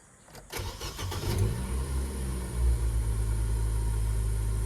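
Nissan Almera with a manual gearbox cranking briefly, catching and settling into a steady idle, the engine close and loud with a low rumble that holds to the end.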